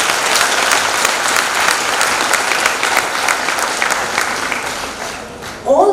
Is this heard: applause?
yes